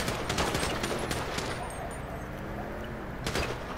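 Rapid gunfire in a video game sounds as dense bursts of shots close up, with a voice talking faintly underneath.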